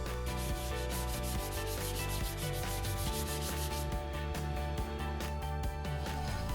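An oscillating multi-tool sands Bondo filler on a wooden cabinet drawer. It makes a continuous loud buzzing rasp with rapid rhythmic scrubbing strokes, close up and with no talking.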